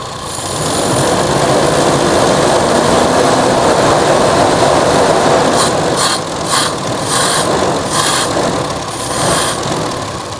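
A carbureted motorcycle engine runs loud and close at a steady high idle, then gets blipped in several quick throttle bursts toward the end.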